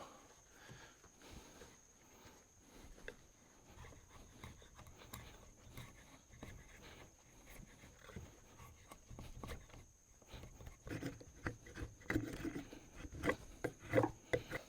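A long knife used as a draw knife shaves sourwood for a bushcraft hammer, giving close, irregular scraping and rasping strokes that grow louder and denser toward the end.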